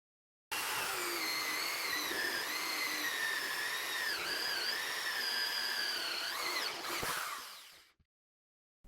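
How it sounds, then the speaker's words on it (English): A power drill drives a 2 3/4 inch (70 mm) hole saw through a console panel to cut a cup-holder opening, a sustained whining high-pitched cut of about seven seconds with wavering pitch as the saw bites, then winding down. "I am going to be using a 2 3/4 hole saw"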